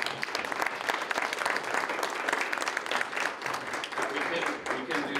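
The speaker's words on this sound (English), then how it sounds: "let's give Steve a round of applause for sponsoring" Applause from a Chamber of Commerce audience for a sponsor, a continuous, fairly even wash of many hands clapping that lasts throughout, with faint crowd voices underneath.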